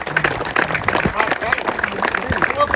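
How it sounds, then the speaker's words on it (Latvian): Applause from onlookers at a pike fishing competition for the second-place team, a dense, steady patter of clapping running through the whole moment with voices mixed in. "Aplausi!"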